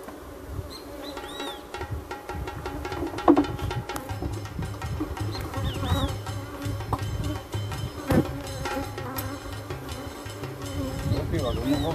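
Honeybees from a relocated colony swarm around a brood box, a dense, continuous buzzing close by with individual bees droning past, and occasional light handling knocks underneath.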